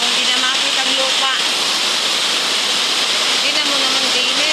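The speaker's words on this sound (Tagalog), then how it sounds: "Lakas ng ulan, oh." A heavy downpour during a storm floods the ground, a loud, unbroken roar of rain and running water with a voice speaking over it.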